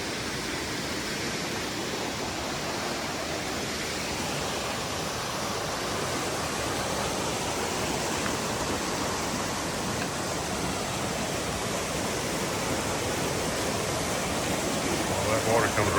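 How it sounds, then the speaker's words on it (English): A creek rushes steadily through a rock chute on the Appalachian Trail in the Saddlebacks on a rainy day, a loud, constant broadband roar of water close by with no letup. "Creek comes through a chute."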